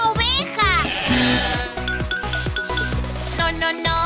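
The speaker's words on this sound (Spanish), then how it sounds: "¡Es una oveja!" A sheep bleats repeatedly in a Spanish children's cartoon song about a Halloween bus, its wavering calls overlapping lively music and a voice.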